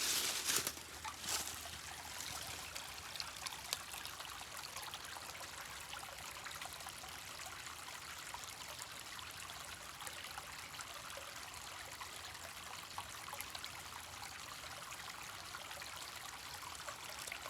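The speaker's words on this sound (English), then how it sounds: "that's just running water, that's a flow of water" Running water flowing steadily, a constant broad trickling rush with no pauses, moderately close and alone without voices.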